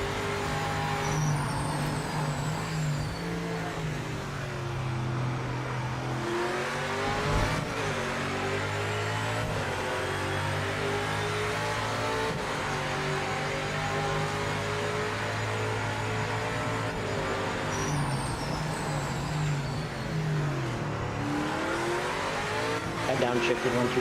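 A race car in the Project Motor Racing video game accelerates with a continuous loud engine drone rising and falling through gear changes, with tire noise mixed in and a voice talking over it the whole time.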